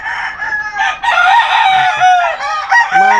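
A rooster crows loudly and close by, its long strained call rising and breaking at the end, followed by a few shorter clucking notes, with no voices.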